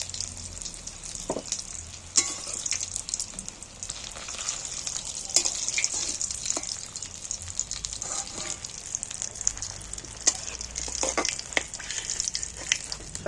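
Fish chops deep-fry in oil until crisp, giving a continuous bubbling hiss dotted with sharp pops and crackles, moderately close and steady throughout.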